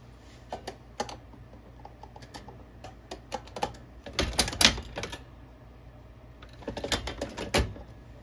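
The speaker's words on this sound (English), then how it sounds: "I'm just going to come over here and give it a little taper on the progressive reloader" A 3-inch 12 gauge shotshell loaded with .29 caliber buckshot and an MG-42 wad being tapered on a progressive reloader, giving a series of sharp mechanical clicks and clacks with a denser burst of metallic clatter in the middle and near the end.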